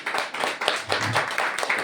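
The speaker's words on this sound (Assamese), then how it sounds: "উঠি পিনি সকলোৱে হাত চাপৰি বজাই থাকিব" Audience at a ceremony honouring chief guests claps by hand, a brisk burst of close, steady clapping from a small group that keeps going without a break.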